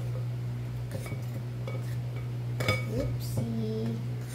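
Banana cake batter is stirred in a bowl, the spoon knocking and clinking against the sides in irregular bursts, with a brief voice heard partway through.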